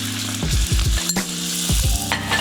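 Butter sizzles in a hot pan for garlic fried rice, a loud continuous fry broken by several scraping stirs and clanks of a utensil close by, with no voices.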